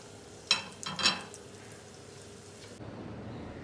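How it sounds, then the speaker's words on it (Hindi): Onions frying in hot oil for a kabab qeema dish: a steady low sizzle with two sharper, brief bursts of crackle near the start, no talking. "अब हमने इसमें प्याज ऐड कर दिया की है, और अब हम इंतज़ार करेंगे इसके ब्राउन होने का"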